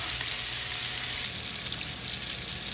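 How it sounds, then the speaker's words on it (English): Bacon sizzles and crackles steadily in a frying pan, a close, continuous hiss with faint popping and no voices. "You start to put in the fry pan, little by little. And we're cooking, until the bacon is brown."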